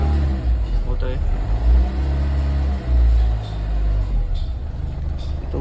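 A Ford EcoSport engine idles and revs smoothly after its cut wiring is repaired, a steady close rumble with slight swells in level while someone talks over it.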